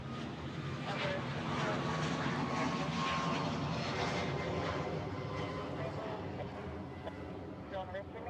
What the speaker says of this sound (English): North of runway 8 right, heavy Airbus A330 departing and advising have them in sight.